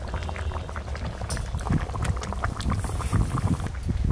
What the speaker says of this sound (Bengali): মাছ দেওয়ার পর ঝোলটা একটু ফুটে গেলে মাছের মধ্যে ঝাল লবণ ভালো করে ঢুকে যাবে